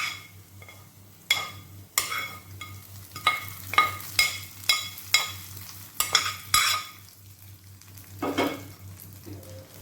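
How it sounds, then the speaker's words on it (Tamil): Shallots and curry leaves hit hot oil in a pan for tempering peanut chutney, giving a loud close sizzle broken by a series of sharp metallic stirring clacks and scrapes, with no talking. "இதை நல்லா தாளிச்சுட்டு அந்த சட்னி கூட ஊற்றிக்க வேண்டியதான்."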